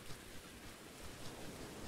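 Steady rain falls heavily in the survival video game Survisland, a dense, even hiss with no breaks that fills the short moment.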